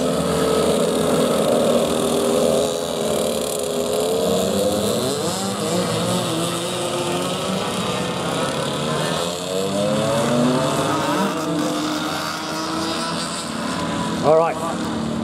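Senior 100cc two-stroke race karts circle a track, their high buzzing engines droning and shifting in pitch as they pass, while an announcer talks over the steady engine noise.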